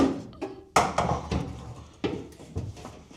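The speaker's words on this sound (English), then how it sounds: "Now I'm just going to pop my driver's seat back into place." Driver's seat of a 1950 Willys M38 Jeep being knocked back into place: a handful of hollow metallic thunks and clunks at uneven intervals, close and fairly loud, with no one talking.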